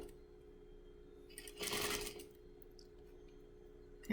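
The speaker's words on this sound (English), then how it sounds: "don't forget to take the pins out as you sew, otherwise you could risk damaging your needle, damaging your machine" A sewing machine stitches along the curved edge of a fabric face mask in a short, moderately loud burst of about half a second, with quieter handling sounds before and after.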